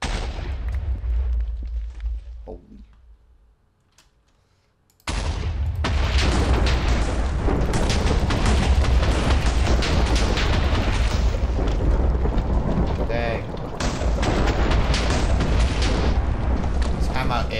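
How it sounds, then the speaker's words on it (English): A huge explosion from a Minecraft mod weapon erupts suddenly after a quiet moment, then rumbles on as a loud, sustained roar for many seconds, with a brief dip partway through. A person exclaims briefly over it. "So, we get a large explosion,"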